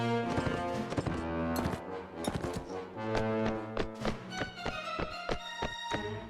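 Horse hooves gallop in Mount & Blade Warband, a rapid, loud clip-clop rhythm over game music and clashing effects, with no talking.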